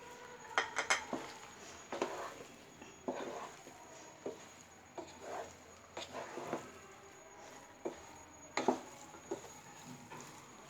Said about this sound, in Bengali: এখন আমি সব কিছুকে একটু ভালোভাবে মিক্সড করে নিব।